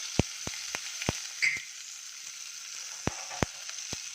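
Vegetables and a small onion frying in a little oil, a soft continuous sizzle broken by sharp, sparse clicks and taps of a utensil against the pan.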